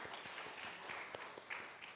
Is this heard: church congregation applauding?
yes